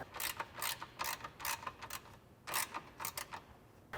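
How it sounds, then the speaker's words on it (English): A 13mm wrench ratchets in short bursts of quick clicking as it tightens bolts on an aluminum side step bracket for a Bronco, faint and close with brief pauses between strokes. "I'm going to take my 13mm wrench and tighten these up first."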